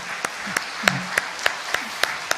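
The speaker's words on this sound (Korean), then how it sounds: "잘 부탁드립니다 하는 마음 담아서 박수 한번 차렷 인사" A church congregation at a weekday dawn worship service claps in a steady, evenly spaced rhythm, about eight sharp beats over a couple of seconds, with a faint voice briefly underneath.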